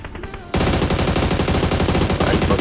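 Rapid automatic gunfire in the PUBG video game erupts abruptly and continues as a loud, dense stream of shots after a brief quieter opening.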